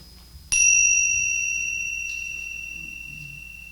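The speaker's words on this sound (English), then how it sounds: "follow the sound of these tingsha bells that are used in Tibet for a sacred time" Tibetan tingsha bells struck once, a bright metallic ring with sustained pure tones that decay slowly over several seconds, alone in a quiet room.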